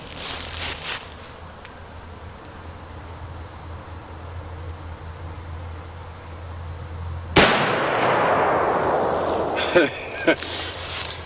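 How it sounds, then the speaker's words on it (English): A single heavy gunshot from a .577 rifle at a shooting range cracks out loud and close after a quiet stretch, then a rumbling tail and a few small clicks follow. "let's take another shot with this 577"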